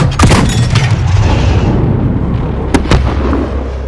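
A loud, booming explosion from the Call of Duty Modern Warfare campaign, with a dense roar of blasts and crackling debris that sustains throughout and sharp bursts near the end.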